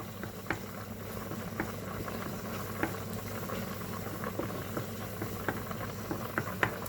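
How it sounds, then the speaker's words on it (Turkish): A pot of pasta boils steadily, a soft continuous bubbling broken by faint scattered pops, with no talking. "Şimdi arkadaşlar makarnamız kaynıyor öbür tarafta."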